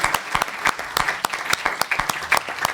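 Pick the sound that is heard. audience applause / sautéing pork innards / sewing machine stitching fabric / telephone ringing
audience applause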